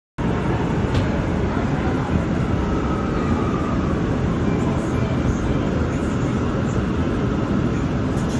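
An R179 subway train on the Brooklyn-bound C local line rumbles along in a steady, loud, continuous roar of wheels and motors, with faint rattles on top.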